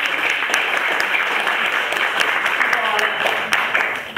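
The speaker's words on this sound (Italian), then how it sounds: "fateci un applauso" An audience at a naturopathy school presentation evening in Italy claps steadily for about four seconds, dense and even throughout, with some brief murmuring mixed in near the end.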